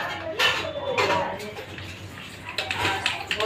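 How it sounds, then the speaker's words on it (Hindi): Breakfast dishes being washed in a home kitchen, with steel pots, plates and cutlery clattering and clinking in irregular bursts over running water, close and fairly loud. "आज मैं नाश्ते के बर्तन धोने में थोड़ा लेट हो गई"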